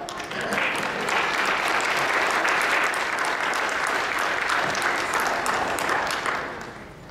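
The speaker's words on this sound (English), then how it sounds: "You can clap." Audience applause fills the whole stretch, steady and dense from a large crowd, sustained throughout before fading slightly at the end, with no voices over it.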